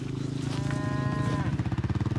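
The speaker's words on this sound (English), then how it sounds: "Our cows, rather than being housed through the winter, are out on the fields all year round." A dairy cow out in a field on Cotswold brash farmland gives one long, close, clear moo that holds steady and then breaks into a throaty, pulsing finish.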